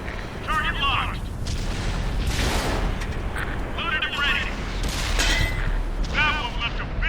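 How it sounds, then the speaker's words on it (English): Explosive shells fire in a World of Tanks battle, with repeated heavy booms and rumbling blasts over dense battle noise while someone talks over them. "somebody's firing explosives"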